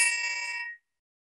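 A single strike on a handheld triangle gives a bright, shimmering metallic ring that holds briefly and then cuts off within a second.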